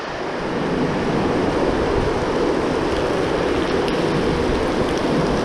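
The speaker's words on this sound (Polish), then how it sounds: "A taki deszczyk lekki to napada i to przesiąknie." Light spring rain falling steadily on a garden mulched with straw, a dense continuous hiss that holds even and fairly loud throughout, with no talking.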